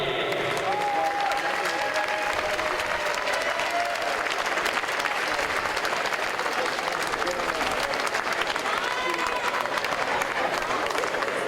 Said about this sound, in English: Big applause for Mr. András Szijjártó, Hungary.